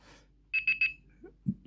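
A Spanish-speaking talking clock's daily alarm gives three quick, bright electronic beeps in a row, followed by faint soft thumps as the button is handled.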